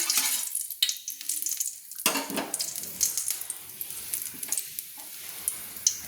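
Turmeric hits hot mustard oil in a pan used for frying fish, giving a bright, steady crackling sizzle with a sharp burst near the start and light stirring clinks. No voice is heard.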